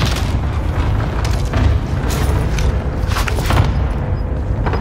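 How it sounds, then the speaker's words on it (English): Cluster airstrike in a battle royale video game: a dense, continuous rumble of overlapping explosions, loud and sustained, with heavier booming surges near the start, the middle and around the fourth second. "Calling in enemy airstrike. Cluster strike."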